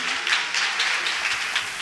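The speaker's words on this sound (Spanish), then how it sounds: "¡Un aplauso!" A crowd at a charity gala applauds, a steady wash of many hands clapping at moderate volume with no voices.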